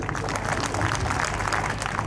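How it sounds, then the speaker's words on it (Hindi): An audience at a state-level inclusion festival for children with special needs applauds a student, a dense, even burst of clapping over a low hum of the hall. "उनके लिए एक बार तालियां"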